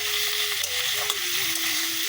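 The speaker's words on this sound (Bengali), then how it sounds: "মা কড়াতে দিয়ে দিল চিংড়ি মাছ, রান্না শুরু, ভাজাভুজি কমপ্লিট।" Prawns cooking in a wok for a potato and pointed gourd prawn curry, giving a steady close sizzle that runs through, with a faint tonal whine or hum over it and light stirring scrapes, no voices.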